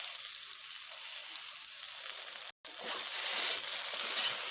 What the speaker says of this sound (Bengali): নুন দিয়ে এইভাবে একটু ভেজে নেব